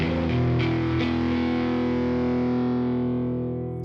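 Distorted guitar patch with effects played on a Yamaha YC stage keyboard, a sustained, loud chord held for several seconds and slowly fading out.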